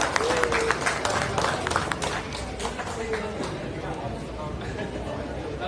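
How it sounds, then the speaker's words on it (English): Crowd applauding at a shop branch opening, brisk clapping mixed with chatter and voices, strongest at first and then settling into softer background noise. "Come on guys, let's give him a louder round of applause."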